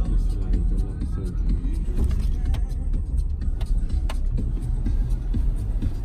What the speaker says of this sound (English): Watch out with the motorcycles.